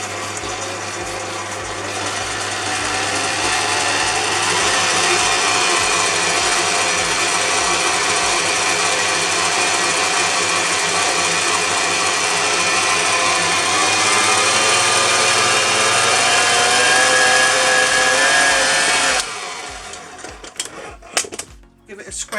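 An electric hand mixer beats plain flour into cinnamon roll cake batter in a home kitchen, a loud steady whir running for about nineteen seconds before it stops, followed by a few scraping knocks.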